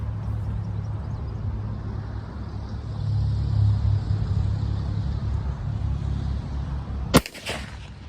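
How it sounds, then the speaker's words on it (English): A single sharp, loud rifle report from a Hakim rifle firing a PPU round rings out near the end, after several seconds of steady outdoor background rumble. "All right, let's try and shoot it."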